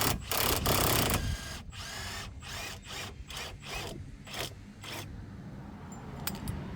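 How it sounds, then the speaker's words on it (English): A wrench pushes a bent part out of a Subaru Forester STI, producing sharp, close metallic ratcheting clicks in a rapid series of bursts that thin out into a few quieter ticks. "if you just put a wrench on and push"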